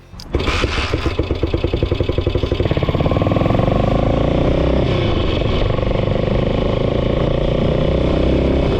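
A Ducati 350 RT off-road motorcycle fires up and pulls away, its single-cylinder engine rising from rapid popping into a loud, steady close-up drone as it rides on.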